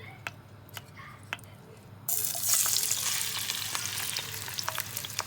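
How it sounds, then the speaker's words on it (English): Tomatoes hit a hot pan for a Moroccan sardine tajine, setting off a sudden, steady sizzle that carries on at moderate volume with occasional stirring clicks and scrapes. "Now that it's hot enough, you add the tomatoes."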